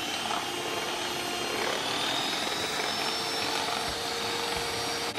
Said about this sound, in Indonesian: Masukkan ovalet dan kocok lagi dengan speed tinggi.